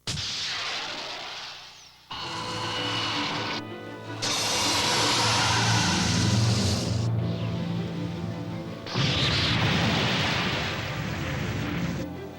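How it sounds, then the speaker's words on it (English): A submarine torpedo decoy explosion in an anime erupts as a series of deep booming blasts and rumbling underwater roars that swell and break off abruptly, loud and close, with no talking. "It's a decoy explosion."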